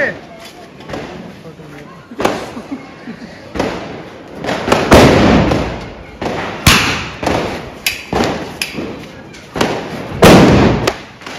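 Diwali firecrackers burst in a street, a rapid irregular series of sharp loud bangs and pops over about eleven seconds, with people talking excitedly between and over the explosions.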